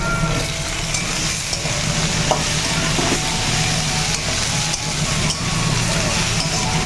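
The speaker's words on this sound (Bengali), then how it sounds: "ওই সবজিটাকে ঢেলে দে" Vegetables tipped into a hot pan of oil in a home kitchen, giving a steady loud sizzle and frying hiss with scraping stir sounds throughout, with no talk over it.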